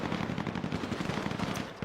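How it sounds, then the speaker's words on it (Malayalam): Dense, rapid video-game gunfire from a Z30 vs TVA turf fight, sustained automatic bursts that keep overlapping at a steady loud level with no gaps and no talk. "എല്ലാ സൈഡും വെടിവെപ്പാണ് നടന്നുകൊണ്ടിരിക്കുന്നത്."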